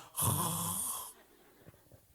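A voice imitating a husband snoring in his sleep, one long rasping snore about a second long, close and fairly loud, then quiet breathing noise.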